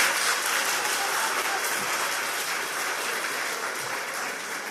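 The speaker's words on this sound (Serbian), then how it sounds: "Podržite ih aplauzom." A school audience at a jubilee ceremony claps continuously, a dense, even wash of applause from many hands filling the hall, holding steady and tapering only slightly toward the end.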